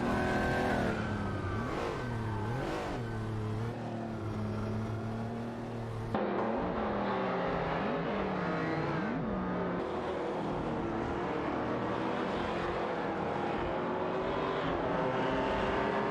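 Video-game race cars overtaking one another, engines whining and rising and falling in pitch as they shift and pass, a steady layered drone with a sudden cut midway.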